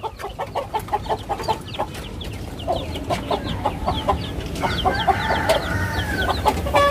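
Chickens at a home coop cluck in repeated bursts close by, with occasional sharper calls and a busy backyard background.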